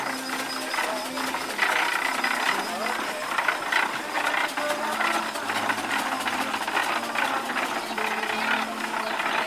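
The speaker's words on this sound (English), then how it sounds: "I guess this is a traction engine, steam powered." A steam-powered traction engine runs at a tractor show display, giving off a rhythmic mechanical clatter and chugging that stays steady and moderately close, with voices faintly in the background.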